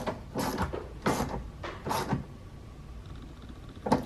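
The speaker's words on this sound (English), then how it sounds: "So we're tightening the 2 number 10 bolts," Bolts are tightened on the window glass clamp inside the door of a 2005-2011 Cadillac STS, heard as several short ratcheting, mechanical clicks and creaks in bursts, close up and fairly quiet, with faint background hum between them.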